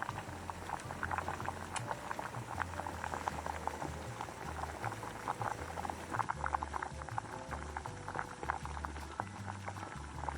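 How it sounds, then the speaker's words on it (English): Oyster mushroom rendang in coconut milk simmers steadily in a pan, a continuous soft bubbling and popping patter at low volume with no talk. "when we get to boiling point, all the combined moisture starts to evaporate and flavors start to concentrate"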